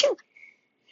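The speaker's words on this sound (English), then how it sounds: "Oh my God, I'm going to sneeze." A single sharp sneeze bursts out close to the microphone, then gives way to near silence with only a faint trailing tone.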